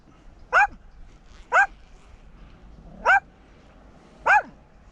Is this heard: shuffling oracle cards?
no